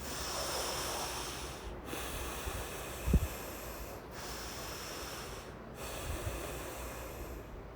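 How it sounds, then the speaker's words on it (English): A slow, deep breath drawn in through the nose during a yoga pose, a soft airy hiss repeating in long waves, with one brief thump partway through. "Deep inhale."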